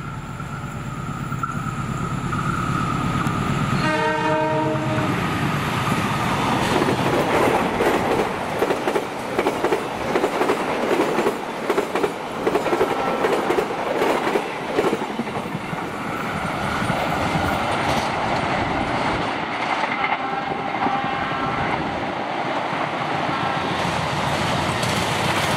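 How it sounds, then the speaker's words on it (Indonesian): A passenger train runs through Kosambi railway station in Indonesia. A horn blast gives way to a long, loud stretch of wheels clattering over the rails, which thins out as the train moves off. "Karena kereta ini melintas di stasiun Kosambinya tepat waktu"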